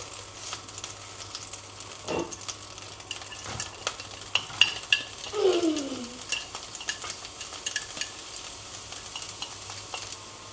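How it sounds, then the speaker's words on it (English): Onions sear in a pan with a steady low sizzle, while stirring brings frequent scrapes and clatters and a brief squeaky scrape in the middle. "we're going to give the onions a bit of a sear"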